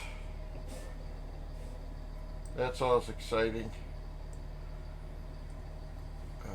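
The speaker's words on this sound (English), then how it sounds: "there's a diesel pusher getting in position right next to us" A low, steady diesel engine rumble from a diesel pusher motorhome drones in the background throughout. Someone speaks briefly partway through.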